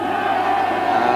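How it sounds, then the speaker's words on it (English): A Munster rugby crowd roars at a 1992 match against Australia, a dense, loud, sustained wall of cheering voices with no gaps. "they're rewarded not just with a roar from the crowd"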